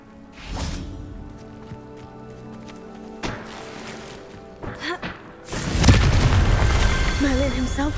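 A Confringo blasting spell explodes in a video game: a few booming blasts, then a long, loud roaring detonation that rumbles on to the end, with a voice heard faintly beneath.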